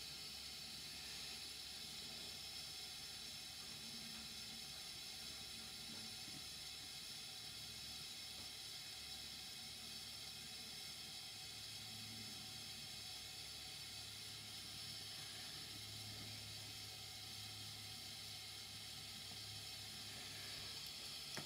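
Water nearing the boil on an ethanol fuel stove gives a faint, steady hiss and low simmering rumble that carries on unbroken, with no talking.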